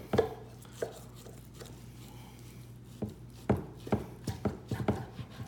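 Knife slicing a thin, bacon-like piece from the interior of a home-smoked fresh whole pork belly with tough skin, heard as a series of close, soft chopping taps against a board, sparse at first and then quicker near the end, with a low steady hum underneath.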